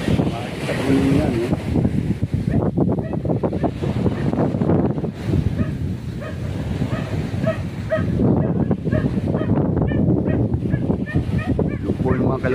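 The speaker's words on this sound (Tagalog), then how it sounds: "Malakas po ang hangin talaga." Strong wind blows at a beach with rough waves and boats nearby, giving a constant gusty roar and microphone buffeting. A person talks over the wind.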